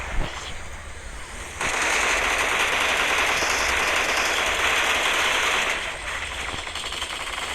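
Machine gun fire in the BGMI mobile battle royale game: a sustained, dense burst of rapid gunfire for several seconds, loud and close, with softer noisy game ambience before and after.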